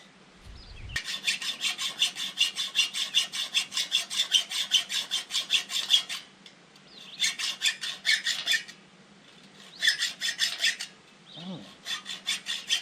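A saw cuts through steel rebar at a footing job in rapid, rasping back-and-forth strokes, in several bursts with short pauses between them, close and clear.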